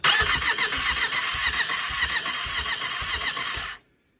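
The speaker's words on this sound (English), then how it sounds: "So the engine turns over" A 1993–96 Suzuki GSX600F motorcycle engine under restoration cranking over on the starter without fuel or carburetor, a loud rhythmic churning whirr with regular pulses for nearly four seconds before cutting off abruptly.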